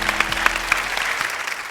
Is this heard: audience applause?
yes